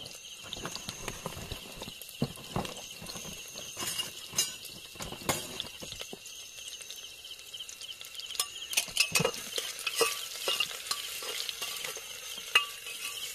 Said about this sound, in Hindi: अब इसमें तेल डाल दिया तो ये सारी सब्जियां फ्राई कर रहे हैं।